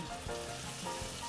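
Food sizzles and crackles steadily in a hot pan, a close, continuous frying hiss with no voices.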